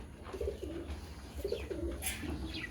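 A molting pigeon gives soft, low cooing calls in short repeated phrases, close and fairly quiet over a faint background hum.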